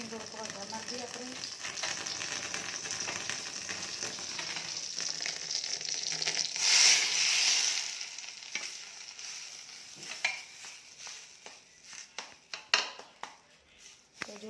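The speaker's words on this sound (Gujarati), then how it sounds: "એટલું જીરું નાખીને થોડુંક વઘાર નાખી દઈએ આપણે." Cumin seeds tempered in hot oil for a batter, a soft frying sizzle that swells briefly midway, then scattered stirring clinks and taps toward the end.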